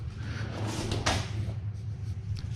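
A soft-close drawer on a newly built shaker-style wooden cabinet slides shut with one muted thud, close by, over a low steady hum with no talk.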